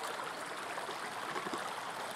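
Water trickles steadily beneath a small hand-built dam in a stream, a soft continuous rushing and gurgling with no breaks, fairly faint and heard on its own without voices.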